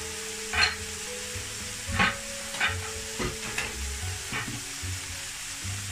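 Cumin and coriander seeds sizzle in hot oil in a pan with a soft, steady hiss, broken by several sharp stirring clinks, close by with no talking.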